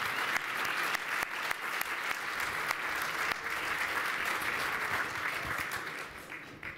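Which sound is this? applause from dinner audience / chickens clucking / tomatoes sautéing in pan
applause from dinner audience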